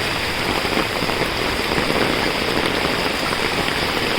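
Heavy monsoon rain pours down on flooded Mumbai streets in a loud, dense, unbroken roar, drumming steadily on surfaces close by.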